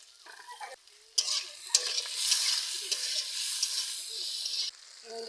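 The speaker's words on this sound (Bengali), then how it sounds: "কড়ার মধ্যে আমি তেল দিয়ে দিচ্ছি। কেটে রাখা চিংড়িগুলো দিয়ে দিচ্ছি" Chopped shrimp with salt and turmeric sizzle in hot oil in a wok, a steady close crackling hiss with stirring scrapes, starting after a quieter lead-in and easing off near the end.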